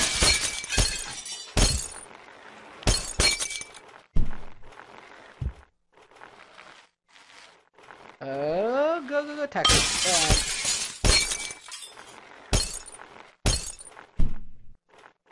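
A glass brick in the video game Happy Wheels shatters again and again in sharp, loud crashes scattered between bursts of excited shouting from a player.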